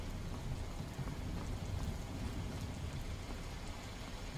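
Steady rain falls in the Skyrim video game with the Requiem mod, a continuous even hiss that runs the whole time with no talking.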